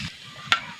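A torn bay leaf and panch phoron hit hot oil with a brief, bright sizzle and one sharp crackling pop partway through.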